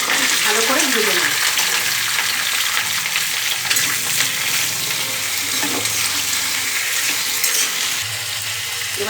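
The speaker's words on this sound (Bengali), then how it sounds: "কুমড়ো আলু পুঁইশাকের ডাঁটাটা আমি তেলে ভেজে নেব" Pumpkin, potato and pui greens stems frying in oil give a loud, dense sizzle close up, with soft stirring noises throughout and a brief murmur of voice in the background.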